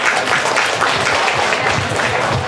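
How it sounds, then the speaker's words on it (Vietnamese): A church congregation at a Holy Thursday gathering of a parish district preparing for Easter gives a long, steady round of applause, the claps pulsing evenly and filling the room. "xin quý vị một tràng pháo tay thật dài nữa đây ạ"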